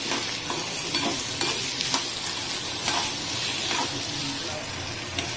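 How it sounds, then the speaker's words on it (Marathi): Onions frying and being stirred in a pan for a Khandeshi onion-peanut chutney, a constant close sizzle broken by regular scraping strokes of the spoon, no talking. "कांदा मस्त लाल परतून घेऊया"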